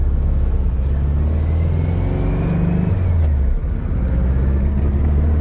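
Car fitted with China 40 IDF carburetors driving, engine note rising under acceleration then dropping briefly as it hesitates, a loud close continuous rumble with no talk.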